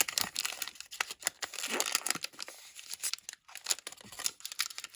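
A Pokémon booster pack, the Pikachu pack from the Destinée Paldea set, is torn open, with irregular crinkling, crumpling and ripping of foil wrapper, close and fairly quiet, with no talking.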